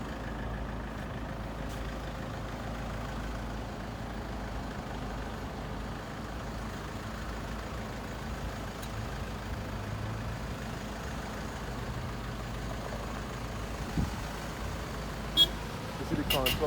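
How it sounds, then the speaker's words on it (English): Steady road traffic rumbles around the Tom Adams roundabout near Grantley Adams International Airport in Barbados, with trucks and cars passing in a continuous low drone and a few sharper bursts near the end. "What could be causing this traffic now?"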